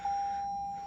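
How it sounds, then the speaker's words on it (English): A car's single steady electronic warning beep rings out as one sustained high tone, clear against a quiet cabin. "Hopefully it does not carry on beeping at me."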